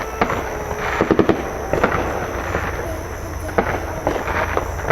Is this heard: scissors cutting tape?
no